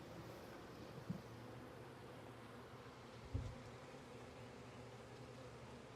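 A swarm of honeybees carrying pollen gives off a faint, continuous low buzz, with a couple of soft dull knocks nearby.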